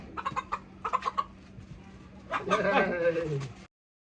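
Chickens cluck in short bursts at a chicken farm, followed by a louder, drawn-out rooster call nearby, with faint background murmur.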